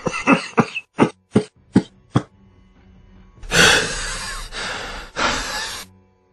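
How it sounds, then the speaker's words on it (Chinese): An old man coughs violently, coughing up blood: a run of five or six sharp, close coughs, then a longer ragged, wheezing fit of hacking and gasping. "又开始剧烈的咳嗽起来"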